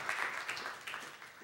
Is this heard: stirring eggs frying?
no